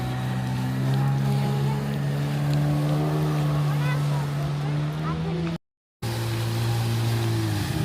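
A jet ski engine drones steadily on a lake, a loud continuous motor hum with wind noise, and people talking faintly over it.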